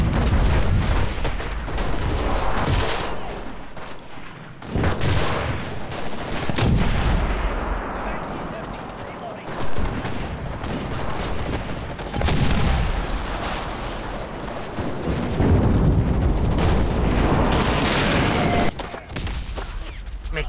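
Bursts of heavy gunfire and booming blasts in the video game Enlisted, Normandy battle, repeat throughout, loud and close, with rapid volleys separated by brief lulls.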